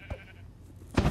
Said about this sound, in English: First, you need to get some sheep. Whoa, don't kill the sheep yet.